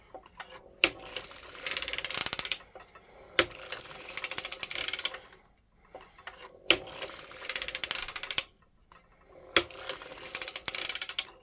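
A circular sock machine is cranked to knit a 48-stitch sock, giving four runs of rapid clattering mechanical ticks separated by short pauses, fairly quiet and close, with no one speaking.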